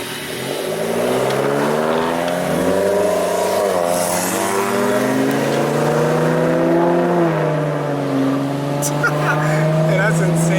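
A Hyundai Genesis engine revs hard and climbs in pitch, then settles into a loud, close drone. Sharp crackles near the end could be backfires, and voices talk over the engine.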